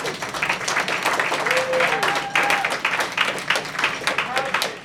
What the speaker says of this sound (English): Huge round of applause for yourselves, guys.